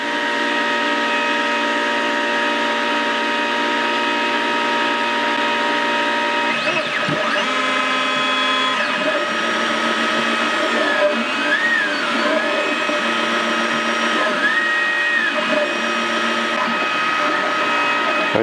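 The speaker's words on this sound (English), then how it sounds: "Now it's actually purging the filament now." Steadytech Pro X 3D printer purging filament, a steady whirring fan hum with stepper motors whining and sliding in pitch as the head moves, close and continuous with no talk.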